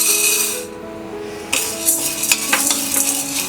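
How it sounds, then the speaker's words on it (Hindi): Chana dal roasting over a low flame in a pan, a spoon stirring it with scraping, rattling strokes over a soft, steady sizzle that continues throughout. "इसे भी लो फ्लेम में हम रोस्ट कर लेंगे।"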